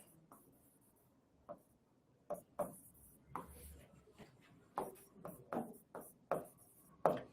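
Chalk or marker writing on a board during a Bengali class 6 math lesson on place value, a series of short scratchy strokes and taps at an irregular pace, close and fairly clear, with no talking.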